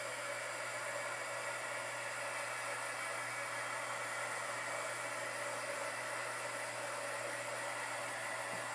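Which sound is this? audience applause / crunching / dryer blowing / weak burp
dryer blowing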